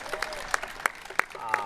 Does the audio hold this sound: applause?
yes